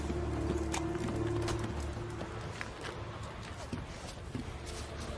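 Soft clip-clopping horse hooves in The Witcher 3: Wild Hunt plod steadily beneath a busy ambient bed, with occasional brief sharp sounds scattered through.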